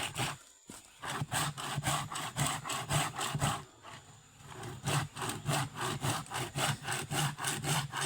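Rhythmic back-and-forth rasp of a hand saw cutting wood, steady strokes close by, with a short pause midway before sawing resumes.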